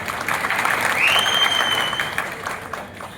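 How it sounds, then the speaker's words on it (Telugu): An audience claps at a political party meeting, a crowd's applause swelling for about a second and then fading, with a high whistle-like tone sliding in partway through. "చప్పట్లు"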